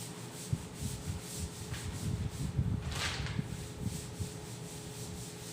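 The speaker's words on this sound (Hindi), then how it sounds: "इसको अब मैं रब कर देता हूं।" A duster rubbing chalk writing off a classroom board during a maths lesson, a series of soft scraping strokes at close range, rhythmic and fairly faint.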